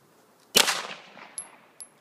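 A single loud gunshot at a police gun range, a sharp crack with a ringing tail, followed by two small metallic pings close by.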